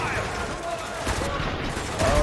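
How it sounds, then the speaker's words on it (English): Rapid gunfire from the Spec Ops: The Line video game, with overlapping bursts and automatic shots crackling in a dense, fairly loud volley, mixed with voices amid the battle noise. "Now open fire!"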